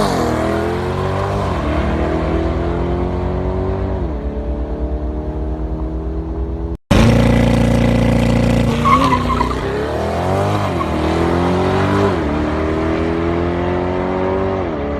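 A hybrid C8 Corvette test car speeds down a strip, its engine note rising and falling through repeated gear pulls, loud and close, with a brief cut partway and a tire-squeal chirp during the second run.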